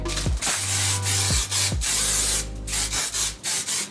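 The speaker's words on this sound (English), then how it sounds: "I am going to spray a little bit of hairspray." Several short hairspray sprays hiss in quick bursts, each a breathy whoosh with brief pauses between, close and fairly loud.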